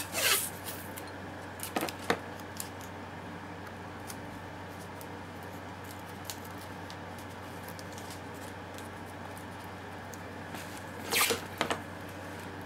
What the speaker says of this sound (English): insert the fuse into the T connector, and you're going to want to tape it well